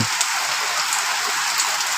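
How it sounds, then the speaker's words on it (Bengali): Light first rain of the season falls at night in Fatikchhari, pattering steadily and evenly on nearby surfaces with no pauses or voices. "প্রথম বৃষ্টি তো অবশ্যই জোরে আসে নাই, হালকা করে আসলো।"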